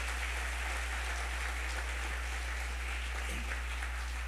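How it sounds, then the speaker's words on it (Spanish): A church congregation gives a sustained round of applause during a Spanish-language worship service, a soft, steady wash of clapping under a low electrical hum, with no voices. "Damos un fortísimo aplauso a la presencia de Dios."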